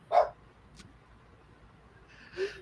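A dog gives two short, sharp barks, one at the start and one near the end, separated by a faint quick sound, heard fairly close against a quiet background.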